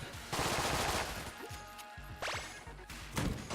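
Gunfire from the video game Enter the Gungeon: dense, loud, rapid shots and blasts in overlapping bursts, with rattling volleys and crashing impacts filling the short stretch almost without a break.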